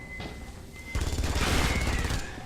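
Smart gun firing in the video game Aliens vs Predator, a loud sustained burst of rapid automatic fire starting abruptly after a quieter stretch of game ambience.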